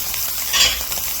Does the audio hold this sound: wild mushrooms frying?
yes